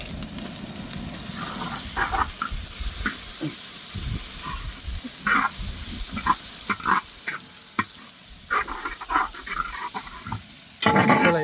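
Ginger garlic paste sautéing in hot oil in a pan for chicken 65, a loud continuous sizzle and hiss broken by frequent scraping stirs of a spoon, close up with no talking.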